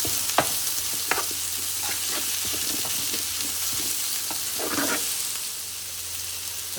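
Sausages, bacon lardons and garlic purée are stirred in an electric slow cooker. A low simmering sizzle runs underneath while a spoon scrapes and clicks against the pot in irregular strokes, close by and with no speech.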